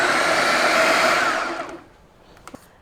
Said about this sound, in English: The shrimp is 100 grams and blend again for another minute